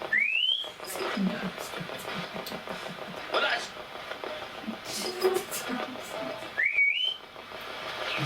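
A person whistles during a nighttime paranormal investigation in Solihull, giving two short rising whistles, one at the start and one near the end, with quiet talking and rustling between them.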